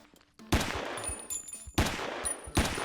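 Gunfire in a Roblox Ohio game comes in three sharp bursts of rapid shots, loud and close, with short gaps between them and no talking.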